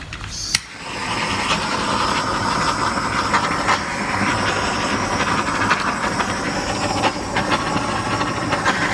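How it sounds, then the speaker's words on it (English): A torch flame hisses steadily and loudly over bubbles in poured fluid acrylic paint, a broad continuous rush starting with a short click and running without pause to the end. "So I need to torch the bubbles"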